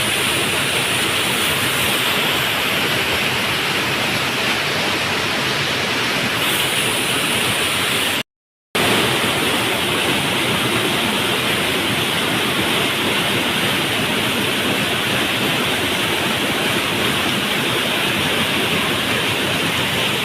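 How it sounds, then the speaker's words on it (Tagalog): Bangon Falls pours in a cave area, a loud, continuous broadband roar of rushing water heard up close, unbroken apart from a short cut midway. "The first waterfall."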